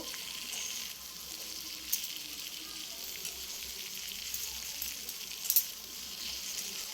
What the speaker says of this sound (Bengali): আর দুটো কাঁচা লঙ্কা আমি দিয়ে দিলাম এরপর সবগুলো দিয়ে আমি ভালো করে ভেজে নেব